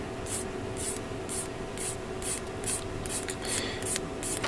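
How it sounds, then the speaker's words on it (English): Plastic parts from a 1/144 RG Blue Justice Gundam model kit sanded by hand with sandpaper, a steady run of short, rhythmic rasping strokes close up, with no talking. "I just now have to go through the long, tedious task of sanding these down."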